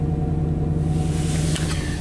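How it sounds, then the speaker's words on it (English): A classic Chevy truck engine with a misfire idles close and loud, the low uneven rumble throbbing with a lumpy, irregular pulse. No one speaks. "It's pegged rich and the truck is misfiring."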